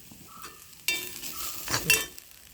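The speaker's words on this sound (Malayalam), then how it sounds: "നാളികേരം ഒന്ന് ചോക്ക ചോക്കണ്ട ഒന്ന് ആ പച്ചപ്പ് കളയണ വരെ നമുക്ക് വറക്കാം" Grated coconut stirred and roasted in a pan, with a low sizzle and the scrape of a spoon against metal. A few quick stirring strokes and a clink come up close after a quiet start.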